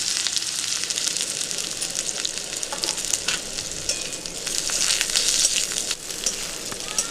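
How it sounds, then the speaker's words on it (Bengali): Raw green banana pieces fry in oil with a dense, steady sizzle full of crackling pops, loud and close throughout, with no speech. "কাঁচকলাগুলো ভেজে নিচ্ছি।"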